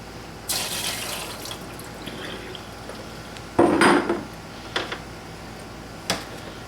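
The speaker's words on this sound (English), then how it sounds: "what I've got left in here, I'm going to pour into a strainer." Wet, sloppy pouring and splashing of squash pulp and seeds into a strainer, with a louder slosh midway and a few light clinks of kitchenware.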